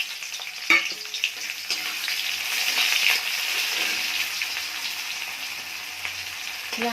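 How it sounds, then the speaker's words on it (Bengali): Sliced onions fry in mustard oil in a wok with dried red chillies, giving a steady close sizzle with a sharp clink of stirring near the start and a few light scrapes later. "পেঁয়াজটা লাল লাল ভাজা হয়ে গেছে"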